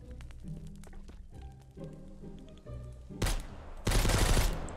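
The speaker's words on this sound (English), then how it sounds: "somebody just blasting their AR over there" Distant AR rifle gunfire in Mist Survival, a scattering of faint shots over the game's tonal background, then two loud close bursts of automatic fire near the end.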